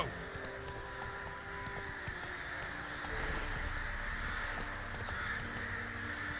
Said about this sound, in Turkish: Bu ne abi kargalar?